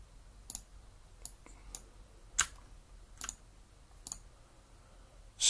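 Computer mouse clicks while inking a drawing in Inkscape, six or so crisp, isolated clicks spaced irregularly over a quiet room background, close and fairly faint.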